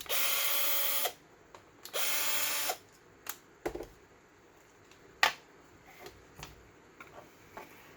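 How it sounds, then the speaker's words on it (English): A handheld screw gun drives screws into a custom leather-over-Kydex knife sheath for an ESEE-6 knife, two close, sustained whirring bursts followed by scattered clicks, taps and handling knocks. "I'd prefer to use a screw gun of some kind, just because it's a lot faster and you have a little more control."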